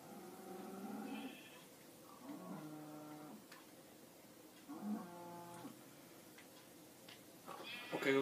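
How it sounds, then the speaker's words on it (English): Minecraft farm animals call out in a game, a few short, tonal mooing and bleating bursts spaced a couple of seconds apart over a quiet background, heard without speech. "I don't really want to kill the sheep because sheeps are good."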